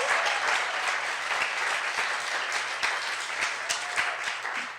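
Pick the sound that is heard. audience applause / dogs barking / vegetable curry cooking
audience applause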